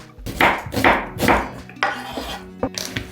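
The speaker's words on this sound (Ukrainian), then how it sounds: "Спочатку займуся цибулею. Наріжу її півкільцями." A knife slices an onion into half rings on a cutting board, giving a run of close, even strokes with a scraping rasp, then a few lighter taps.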